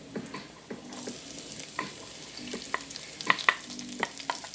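Garlic frying with bacon in a pan for a Jamaican-style breakfast, a soft close sizzle with stirring scrapes and sharp clicks of a utensil against the pan, no talk.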